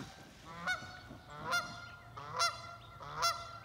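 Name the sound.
goose honking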